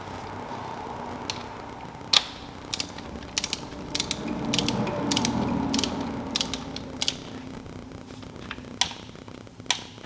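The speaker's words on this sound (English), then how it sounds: "I'm going to use my torque wrench and torque the spark plug to 16 foot-pounds" Torque wrench tightening a spark plug on a 2013 Honda CR-V: steady ratcheting clicks, mostly quick irregular bursts of sharp mechanical ticks at close range, with no talk.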